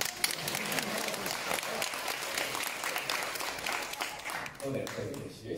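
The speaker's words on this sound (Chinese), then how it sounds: "鼓掌" Audience applause at a Deyunshe crosstalk matinee show in Xinjiekou, dense clapping from a hall crowd sustained throughout, with voices mixed in.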